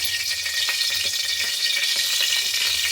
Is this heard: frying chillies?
yes